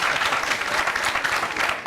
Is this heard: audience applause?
yes